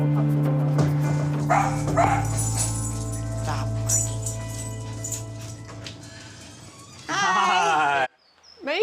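Dogs bark and yip close by in repeated sharp bursts over a sustained tonal hum, followed by a whimpering, whining stretch near the end.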